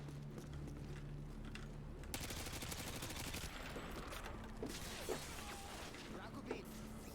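Automatic gunfire in Modern Warfare 2, a sustained rapid burst of shots followed by scattered single pops, moderately loud with a faint mechanical hum beneath.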